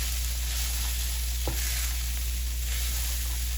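Chili powder being stirred into burrito filling in a hot pan, a steady sizzle with a short scraping stroke of the utensil partway through.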